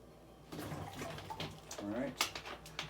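Water splashes and trickles into a container, with bubbly, gurgling pulses for a few seconds at close range.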